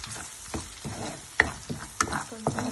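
Chili powder fries in hot oil for a chicken pickle, crackling and sizzling softly while a spoon stirs with scattered scraping knocks, close up and without speech.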